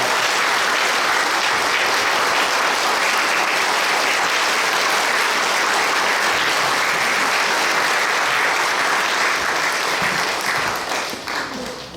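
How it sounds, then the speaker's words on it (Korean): A church congregation at a Korean ceremony installing a senior pastor and a new head pastor breaks into loud, sustained applause from a large audience, holding steady for many seconds before tapering off at the end. "박수로 축하드리기 바랍니다."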